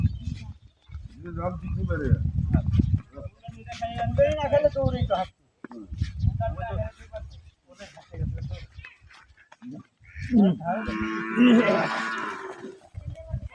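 A large native cow gives loud, drawn-out moos at an Eid cattle slaughter, interrupted by people talking nearby, with a raspier, strained call near the end.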